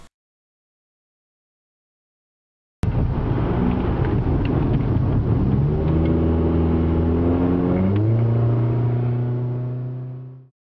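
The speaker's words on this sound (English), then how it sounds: "look, another car." A car engine starts up abruptly after silence and revs loudly, pitch climbing and falling through several rising sweeps as it drives off, then fades out at the end.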